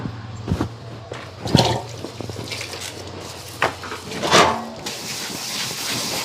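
Tap water runs and splashes in a home kitchen while dishes are washed, with scattered clinks and clatters of utensils, a few louder gushes and a steady hiss toward the end; no one speaks.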